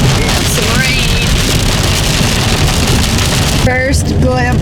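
Rain drumming and tire roar inside a car on Highway 50 near South Lake Tahoe, a dense continuous wash, with brief voices rising near the end.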